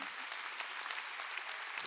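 Church congregation clapping during a Korean Sunday worship service, a dense steady wash of many hands filling the whole stretch at an even, moderate level without pause.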